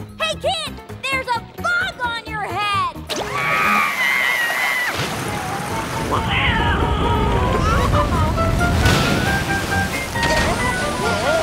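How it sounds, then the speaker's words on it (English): Water gushes from a cartoon water tower: after a few seconds of a character's voice, a loud, sustained rushing and splashing surge takes over and continues to the end. "water would gush out and wash them all away"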